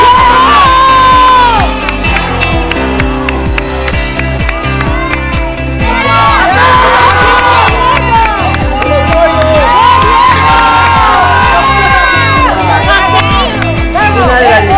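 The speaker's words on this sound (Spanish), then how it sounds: "al que grite más fuerte le voy a dar este plato" A live audience at a cooking show event shouts, whoops and cheers loudly and continuously, with some clapping, while a voice speaks over the noise.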